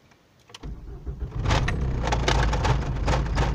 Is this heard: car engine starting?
yes